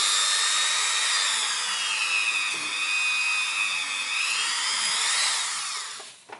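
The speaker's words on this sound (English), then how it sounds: "And there is my Dremel. And then I start to polish." A Dremel rotary tool polishes a Toyota Corolla brake caliper, a steady high-pitched whine held near and loud for several seconds, its pitch wavering slightly under load before it winds down at the end.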